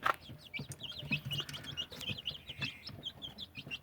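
Young free-range village chicks (ayam kampung) in a sheltered brooding spot cheep and cluck continuously up close, a busy overlapping chorus of high, quick peeps with soft low clucks underneath.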